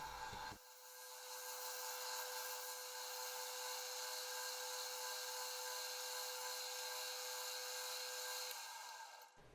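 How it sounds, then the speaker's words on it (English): A hand scraper works across the flat face of a maple ring on a segmented wood vase, a continuous steady rasping scrape held at an even level for several seconds, close and alone with no talk. "I'm just cleaning it up with the scraper, getting it nice and flat so it's be ready to glue the next ring on"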